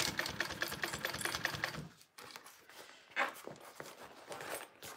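A sewing machine stitches bias tape binding onto a fabric sling bag, a fast, close mechanical whir that runs for about two seconds, stops, then gives way to quieter handling sounds and short bursts.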